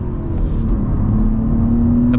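Engine of a 2023 BMW G80 M3 with a manual gearbox, a close, steady low rumble with a faint whine that rises slightly near the end.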